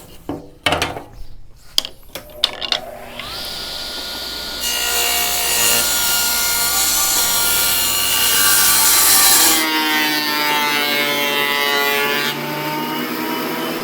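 A handsaw cuts through a hand-planed wooden board held against a fence, opening with a few short starting strokes and knocks, then a steady sustained rasping cut that grows louder before easing off near the end.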